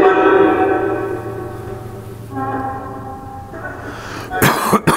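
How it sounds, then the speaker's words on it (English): A man coughs repeatedly during a solo paranormal investigation, with several harsh, close coughs and throat-clearing sounds near the end. "Sorry for coughing in your face, guys."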